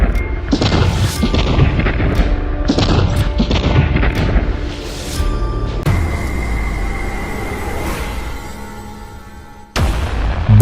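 Loud, close bursts of gunfire with sharp booming impacts and crashes in quick succession, followed by a sustained roar and a final sharp bang.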